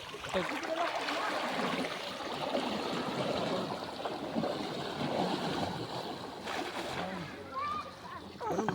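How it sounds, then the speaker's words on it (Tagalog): Strong river current rushes and splashes continuously nearby during a fishing outing, a steady loud wash of flowing water with voices talking over it. "Ang lakas ng agos oh."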